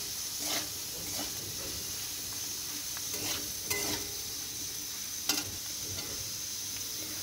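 Turmeric and chili powder frying in a pan for a hilsa curry with potato and eggplant: a quiet, continuous hiss with repeated scraping stirs and a couple of brief clanks, no speech.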